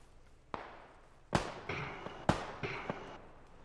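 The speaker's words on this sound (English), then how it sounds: "Shots up ahead." Gunshots in PUBG, a handful of sharp separate cracks with quieter echoing tails, spaced irregularly and moderately loud against a low background hum.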